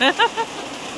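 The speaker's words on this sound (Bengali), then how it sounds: "বৃষ্টি নামছে কি পরিমাণে দেখেন, প্রচুর বৃষ্টি।" Heavy rain pours down in a steady, even hiss, with a voice speaking briefly over it at the start before the downpour carries on alone.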